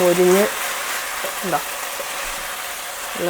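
Chicken fries in a pan with a continuous, even sizzling hiss, while a voice speaks in short bursts over it.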